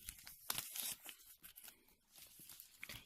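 Cellophane wrapping on a gift parcel crinkling and loosening by itself, faint close crackles and soft tearing rustles in irregular bursts, no talking.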